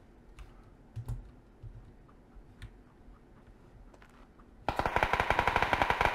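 Rapid automatic gunfire bursts out suddenly and loudly near the end in a combat video game, following several seconds of quiet clicks and faint distant shots.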